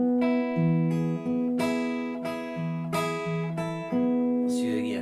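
Acoustic guitar playing the last two measures of a D-chord passage, with an alternating thumb bass under ringing strums; close and clear, about two seconds per measure, ending in a brief scrape, with no talking.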